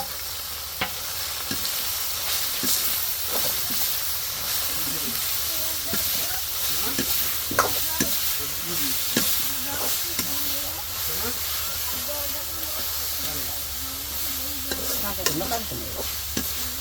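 Paddy rice roasting in a hot pan for puffed rice, stirred with a steady scraping hiss and scattered sharp pops and crackles, close and fairly loud throughout.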